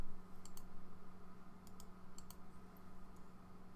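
Someone types a short command on a computer keyboard while drafting in AutoCAD, a few quiet, crisp key clicks in small clusters spread across the moment over a faint background hum.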